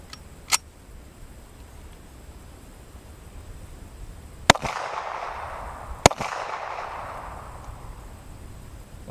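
.45 ACP 230 grain handgun rounds fired into a polyurea target, three sharp gunshots, a faint one early then two loud cracks about a second and a half apart, each followed by a hissing echo tail.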